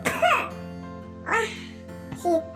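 A young child coughs outdoors in the sun during a harvest outing, giving three separate raspy, voiced bursts spaced about a second apart, fairly close and clear with no other sounds around them.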